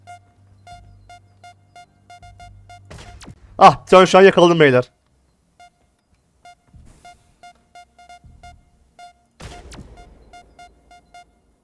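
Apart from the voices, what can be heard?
alarm beeping in the video game Crayta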